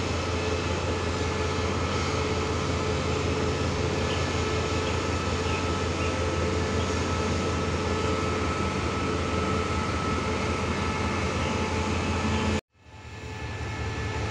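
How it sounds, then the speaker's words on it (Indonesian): A loud, steady mechanical rumble of a rapid passenger train departing Padang Besar station for Hatyai Junction runs without a break, then cuts off abruptly near the end. "Kereta api rapid tujuan Hatyai Junction diberangkatkan dari stasiun Padang Besar"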